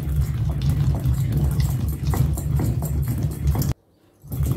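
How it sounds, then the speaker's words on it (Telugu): Soaked rice with a little water being ground in a new stone grinder, a loud continuous low rumbling grind with rhythmic scraping pulses, pausing briefly near the end before resuming. "ఇప్పుడు ఈ బియ్యాన్ని ఇలా రుబ్బేసుకోవాలి"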